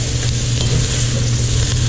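Shrimp fry in a pan for a sausage and shrimp paella, giving a loud, steady, close sizzle that carries on unbroken with no voices over it.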